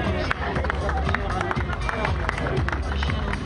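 At a cycling race ceremony, a crowd claps for a young rider receiving the best young rider's blue jersey, a dense, continuous patter of hands with a babble of voices and shouts mixed in.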